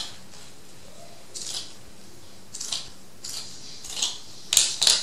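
Scissors cutting through an inexpensive bedroom side rug, a series of crisp snips and crunches that come irregularly and then quicken, growing louder toward the end, close up with no talking.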